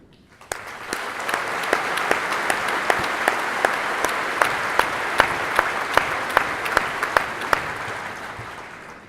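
Steady audience applause at the 2017 Elkhorn South graduation for the graduating seniors, a dense even patter of many hands with a few sharper nearby claps standing out, sustained throughout without talk.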